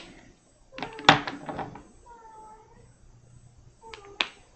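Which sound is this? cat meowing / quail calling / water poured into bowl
cat meowing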